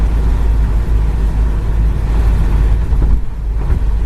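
Interior drive in a 1978 Chevrolet Camaro LT cruising down the road, a steady low engine rumble and road roar with wind buffeting, no voices.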